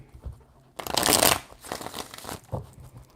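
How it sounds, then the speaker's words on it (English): Tarot cards shuffled in three rough bursts, the first loud and crackling, followed by two shorter riffles, close up with no one talking. "3 shuffles."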